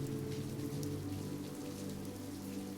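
Heavy rain on a stormy night in Dumbo, a dense, steady hiss of drops on surfaces that stays loud and unbroken throughout, with no thunder or voices.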